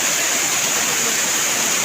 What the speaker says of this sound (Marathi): कसा वाटला तुम्हाला आंबोली घाटचा धबधबा?